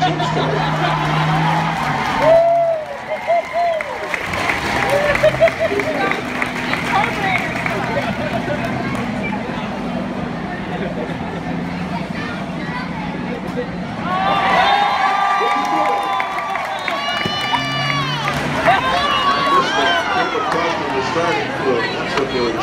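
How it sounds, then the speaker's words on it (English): Crowd cheering and babbling at a combine demolition derby at a county fair, a continuous noisy roar with swelling bursts of cheers and whistles, heard under an announcer's talk. "That's what they were cheering about."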